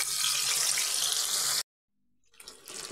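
Marinated fish frying in a little mustard oil in a frying pan gives a bright, steady hiss that cuts off abruptly, falls silent, then returns briefly as a softer crackle.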